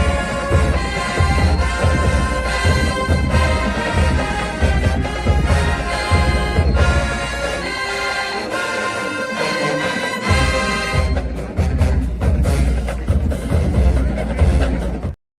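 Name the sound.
high school marching band playing at football stadium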